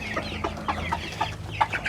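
Chickens on a farm cluck in a quick, irregular series of short, close calls, several birds overlapping over a low background hum, with no talk.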